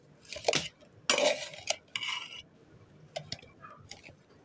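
Dhenki greens (fiddlehead fern) are mixed with oil in a bowl, giving a few close, brisk bursts of clinking and scraping separated by short quiet gaps.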